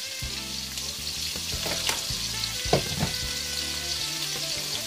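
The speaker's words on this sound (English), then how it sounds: "we're actually browning our pork" Pork sizzles steadily in a hot pan as it browns for a Jamaican stew, with a few louder spatters and pops standing out near the middle.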